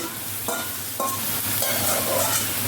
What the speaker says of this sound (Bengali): শুটকি মাছটা ভাজতে আমি ভুলে গেছি তো সমস্যা নেই মলা শুটকি এখন এটার সাথে ভেজে নিব